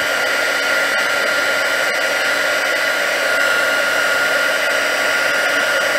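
Heat gun blowing over embossing powder on a card, a steady, close, continuous hiss and whir with no other sounds.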